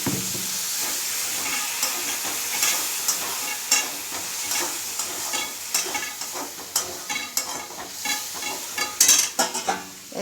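Water splashed into masala frying with Kashmiri chilli powder for a Bihari chicken curry raises a steady loud sizzle and hiss, broken by repeated scraping stirs of a spoon in the pan, with no talk.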